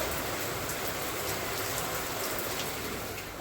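Steady rain falls outside a home, a dense, even hiss of drops hitting surfaces that stays constant throughout, with no voices.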